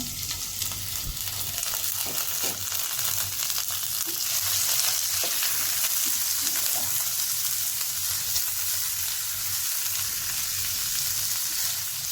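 Noodles frying in hot oil in a home kitchen, a steady, close sizzle running unbroken throughout with a few faint clinks and stirs, no voices.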